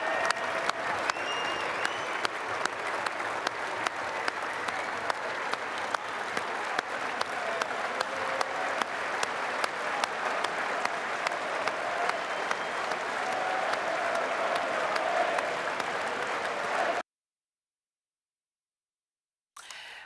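A cricket crowd gives Ben Stokes sustained applause as he walks out through a guard of honour from the England and New Zealand players. The dense clapping holds loud and steady for about seventeen seconds, then stops abruptly.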